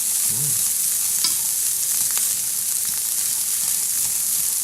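Carrots and other vegetables stir-fry in a greasy pan for Cantonese rice, a steady close sizzle with scraping stirring strokes throughout and no talking.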